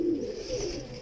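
Pigeons coo softly and continuously in a low, murmuring tone, close by, alone without talk, among birds kept for pigeon flying in Lahore.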